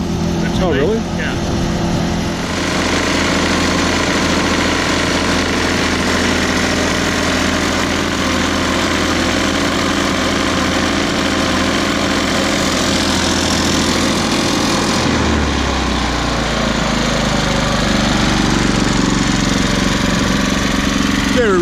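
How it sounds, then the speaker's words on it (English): A car engine running on bacon grease in place of motor oil idles steadily and loudly throughout, its low drone dropping to a deeper, smoother idle partway through, with a person speaking over it. "we reduced it down to an idle. And it's running mighty smoothly."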